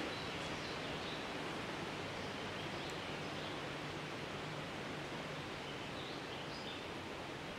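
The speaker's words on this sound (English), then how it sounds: "the wind is still blowing a little bit" Steady broadband rushing of wind, constant and fairly loud, with faint rustling and no voices.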